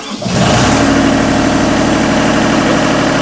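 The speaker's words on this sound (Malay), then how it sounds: "kita start engine." A Genie Z-45 boom lift engine turns over and catches within a fraction of a second, then settles into a loud, steady, rumbling idle up close.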